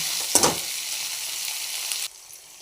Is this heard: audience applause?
no